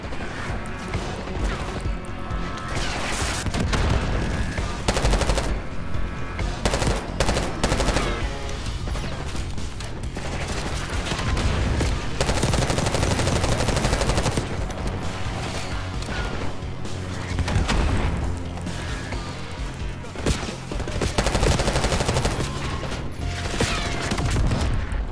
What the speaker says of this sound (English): He just shot me in my face with a rocket, bro.